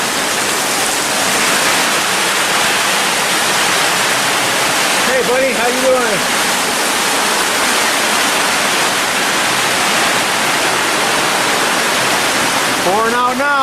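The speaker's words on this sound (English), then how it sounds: "It just busted out with rain." Heavy afternoon rain pours steadily in late October after days of wind and sprinkles, a dense, loud, continuous hiss throughout, with a man briefly greeting someone midway.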